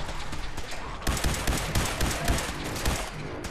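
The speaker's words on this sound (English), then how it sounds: "So there's a lot of gunshots coming on." Gunfire in Fallout 4 crackles in rapid bursts, with dense shots cutting in sharply after a quieter opening and continuing as a loud, rattling fusillade.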